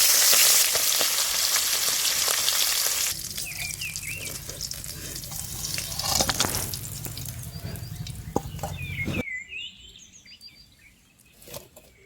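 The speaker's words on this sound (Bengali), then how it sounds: "তেল গরম হয়ে গেছে মাঝে মাথা দিয়ে দিচ্ছি" Katla fish head drops into hot oil in a kadai, first a loud dense sizzle, then a quieter crackle with clattering handling and a few knocks before the frying cuts off near the end.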